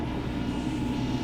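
Strong gusty wind at roughly 40 to 50 mph roars in a steady, loud broadband rush outdoors on a rural road being cleared, with no pauses across the brief stretch.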